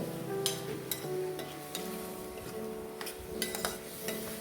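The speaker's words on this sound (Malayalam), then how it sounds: "ഒരു അര സ്പൂൺ അളവിൽ മുളക് പൊടി ചേർത്ത് കൊടുത്ത് നന്നായിട്ടൊന്ന് ഇളക്കിയെടുക്കുന്നുണ്ട്" Spoon stirring turmeric and chilli powder frying in a pan for a Kerala prawn theeyal, with scattered scraping clinks of utensil on metal over a low steady sizzle, close and moderately quiet.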